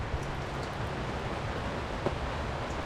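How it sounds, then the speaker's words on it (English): Steady rain falling, a continuous even hiss of drops with no distinct splashes, heard alone at moderate level. "it is raining"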